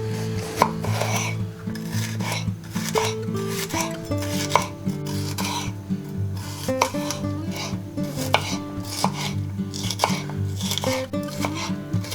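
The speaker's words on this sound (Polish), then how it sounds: "Małą czerwoną paprykę także kroimy w kostkę." A knife chops a small red pepper into cubes on a board, striking in quick, steady repeated taps close by, with faint background music and no talk.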